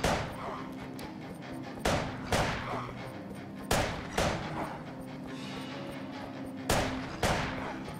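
Gunfire in the horror shooter game Ritual: Crown of Horns, sharp shots cracking out singly and in close pairs against a steady ambient game bed, loud and near, with no talk.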